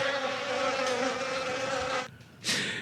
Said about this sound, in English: Bring on the bees. This I can handle.